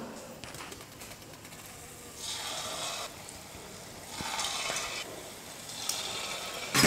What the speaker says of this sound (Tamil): சின்ன சின்ன உருண்டையாக இப்போ மாவை எடுத்து நம்ம எண்ணெயில் போண்டாவாக போட்டு சுட்டு எடுத்துடலாம்.